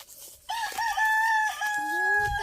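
A rooster crows nearby in a rural Philippine village setting, one long drawn-out cock-a-doodle-doo with rising and falling tones, loud and clear with little background noise.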